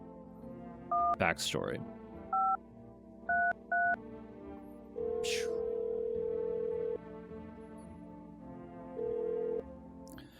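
Telephone keypad tones inside the video game No, I'm Not A Human: a quick run of short two-note DTMF beeps, then longer held tones, with a person talking over them.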